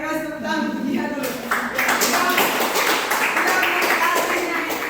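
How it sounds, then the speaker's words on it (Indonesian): Classroom applause breaks out in a school lesson, a burst of scattered clapping from students that starts after about a second and carries on steadily, with voices mixed in. "terima kasih tepuk tangan untuk dia dulu"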